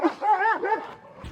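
A large dog in rural Portugal gives a few close, loud barks and yips in quick succession, followed by a brief low rumble at the end.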